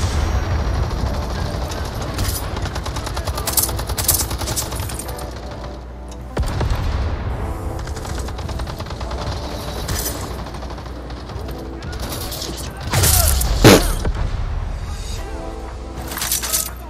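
Gunfire in the video game Battle Teams 2, with long bursts of rapid automatic shots crackling throughout and a loud cluster of heavy blasts near the end, under occasional voices.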